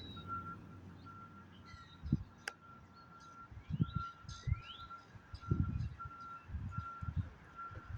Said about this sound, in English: listen to that beeper up here